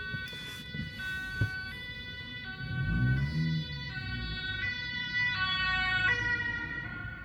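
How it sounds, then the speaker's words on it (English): An ambulance siren wails on a road in Düsseldorf, its rising and falling two-tone pattern swelling louder as it passes close by the car over a low road rumble. "Okay, one ambulance."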